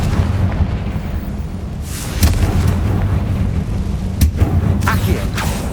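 Booming fire-blast explosions from a spell in Hogwarts Legacy, heavy low rumbles with sharp cracks near two and four seconds over continuous battle noise.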